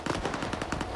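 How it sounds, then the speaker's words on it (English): Rapid bursts of automatic gunfire in the video game S.T.A.L.K.E.R. 2: Heart of Chornobyl crackle in a quick, even rhythm, loud and close, with no voices. "it looks like we'll have to go towards the gunfire here"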